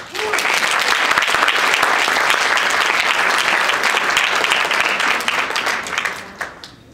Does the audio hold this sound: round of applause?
yes